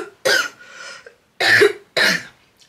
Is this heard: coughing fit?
yes